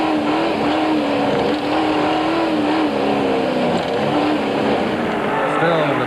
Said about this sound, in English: Back with Cliff Barker in the Pennzoil Land Rover as he goes past the slowing down Richard Leak in the other Castrol Hilux